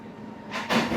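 A train bound for Bargarh arriving at a station, heard from the platform: a low steady rumble that swells into a louder rushing roar as the carriages draw near.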